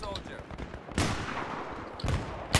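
Gunfire in the Battlefield video game on the Strike at Karkand map, with bursts of shots cracking out around the one-second mark, again near two seconds and sharply at the end, over continuous noisy battle ambience.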